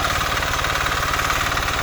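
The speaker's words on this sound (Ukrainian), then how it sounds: "Ну Газку даю, щоб пошвидше йшов." Walk-behind tractor engine being throttled up while weeding a potato field, a loud, close, steady chugging drone with a fast even pulse and rattling vibration, no voices.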